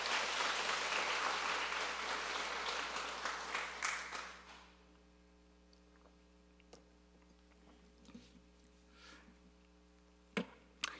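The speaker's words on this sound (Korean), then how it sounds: "자, 우리 영광의 박수 한번 하겠습니다." Church congregation at a Sunday night service clapping together, a full burst of applause that tapers off within a few seconds, leaving a quiet room with scattered faint clicks and knocks.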